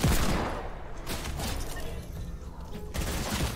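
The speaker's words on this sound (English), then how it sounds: "This kid's got an SMG!" Automatic SMG fire in the Roblox shooter Arsenal, a dense rattling burst of game gunfire that runs loud and steady through the whole moment with a brief lull near the end.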